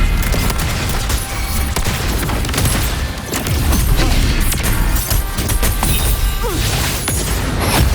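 Mortar shells explode in Wuthering Waves combat as a dense, continuous barrage of booms and crashes, loud and close, layered with gunfire and whooshing effects.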